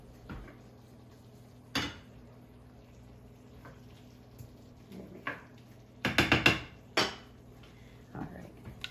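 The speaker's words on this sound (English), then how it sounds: "I'm going to go stir my sauce." Pasta sauce is stirred in a pot, with scattered light scrapes and clinks of a utensil against cookware, including a quick cluster of sharper knocks, over a quiet kitchen background.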